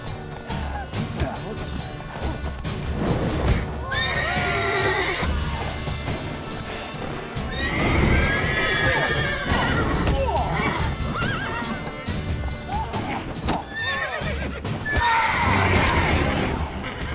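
Roach, the horse in the video game Witcher 3, whinnies loudly several times between stretches of galloping hoofbeats and scattered impact sounds, with game voices now and then.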